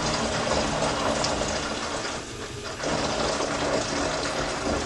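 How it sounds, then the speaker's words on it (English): Homemade liquid laundry soap is poured through a funnel into an Xtra bottle, a continuous gurgling liquid rush at moderate level that dips briefly midway before resuming, with no talking. "just be careful when you're pouring it not to like overfill the funnel"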